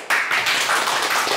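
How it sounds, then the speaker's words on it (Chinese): A small group in a police office scene breaks into a short burst of clapping after a request is granted, the claps close and rapid, filling just over a second. "先别鼓掌，"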